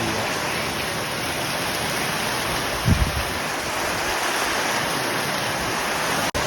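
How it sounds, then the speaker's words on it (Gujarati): Heavy rain pours in a steady, dense roar over a village farm, with a brief thud partway through and a sharp click near the end. "બહુ વરસાદ પડે છે અત્યારે."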